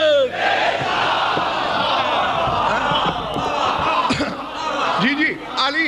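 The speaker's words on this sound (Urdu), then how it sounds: "دونوں ہاتھ بلند کر کے مشکوک شجرے باروں کو شرم دلانے کے لیے نعرے حیدری حیدری" A crowd at a Shia majlis shouts the religious slogan Haidari in loud, ragged unison, voices swelling and overlapping in rhythmic bursts, with a few sharp sounds punctuating the chant.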